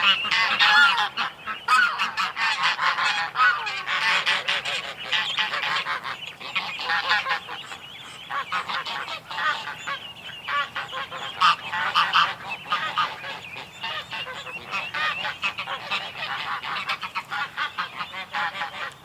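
A flock of geese honk loudly and continuously nearby in a yard with ducklings, overlapping calls forming a dense, noisy chorus throughout.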